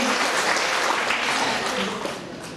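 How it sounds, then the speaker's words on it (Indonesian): Applause from a seminar audience at an Indonesian bonus and marketing-plan presentation, a dense steady wash of many hands clapping that holds loudly for about two seconds and then begins to fade. "Tepuk tangan dulu buat Anda"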